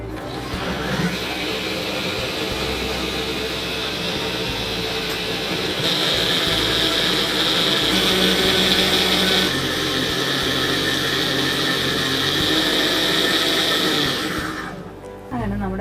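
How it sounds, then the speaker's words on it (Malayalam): A kitchen blender blends pineapple and banana into a smoothie, a loud, steady motor whir lasting about fourteen seconds that rises in pitch partway through, then cuts off abruptly near the end. "ഇതെല്ലാം കൂടി ചേർത്തിട്ടൊന്ന് നന്നായിട്ടൊന്ന് ബ്ലെൻഡ് ചെയ്യാം."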